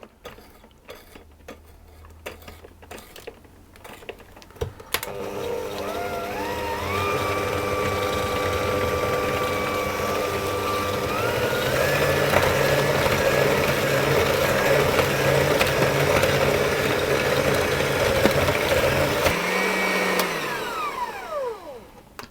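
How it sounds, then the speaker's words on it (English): An electric mixer whisks egg into cake batter, a steady close mechanical whirr that rises in pitch and speed, runs continuously for about fifteen seconds, then winds down and stops. "I'm going to add it in a little bit at a time, whisking all the time until it's fully incorporated"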